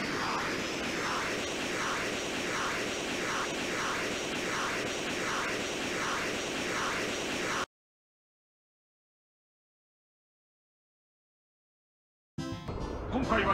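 A jet engine in a flight simulator game hums steadily at idle while taxiing, an even droning roar with a slow rising and falling pulse, cut off by a long stretch of silence before a brief noisy return.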